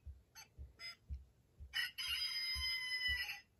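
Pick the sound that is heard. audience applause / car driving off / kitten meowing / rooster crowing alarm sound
rooster crowing alarm sound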